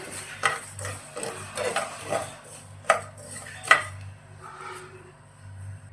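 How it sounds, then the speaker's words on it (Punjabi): Spices being dry-roasted in a pan for green chilli pickle, stirred with a utensil that scrapes and clinks against the metal in irregular strokes, with a few sharper knocks, close up and without any voices. "ਇਸ ਤਰੀਕੇ ਨਾਲ ਹਿਲਾਉਂਦੇ ਰਹਿਣਾ ਮਸਾਲਿਆਂ ਨੂੰ ਇਸ ਤਰੀਕੇ ਨਾਲ ਜੀ"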